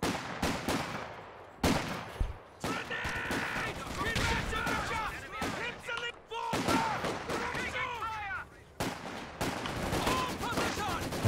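Vickers machine guns in Company of Heroes 2 fire rapid bursts of gunfire amid a dense battle mix, with game voices talking over the shooting.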